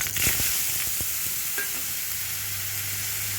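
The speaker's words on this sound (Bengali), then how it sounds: "এবার আমি এর মধ্যে এই আলুটা দিয়ে দেবো।" Potato pieces fry in hot ghee, a steady soft sizzle with a few scraping stirs near the start, close and fairly quiet with no talking.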